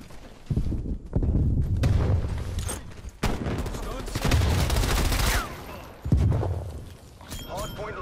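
Gunfire in Call of Duty Black Ops Cold War on a satellite hardpoint map, repeated bursts and volleys of shots close by, loud and dense, with a voice talking over the action.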